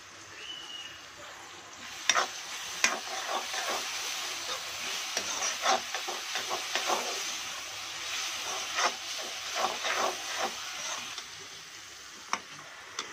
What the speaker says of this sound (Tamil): அரைச்சி வச்ச பூண்டு இஞ்சி பேஸ்ட்டை வந்து போட்டுக்கலாம். நல்லா வறுக்கலாம் பொன்னிறமா